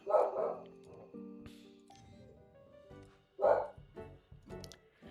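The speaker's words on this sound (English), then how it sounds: "Oh, my dog's barking." A dog barks indoors in a few separate bursts, one at the start and another past the middle, moderately near and alone without talk.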